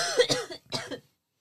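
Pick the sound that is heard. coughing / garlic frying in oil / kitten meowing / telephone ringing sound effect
coughing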